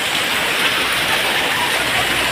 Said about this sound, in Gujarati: ધોધમાર વરસાદ પડ્યો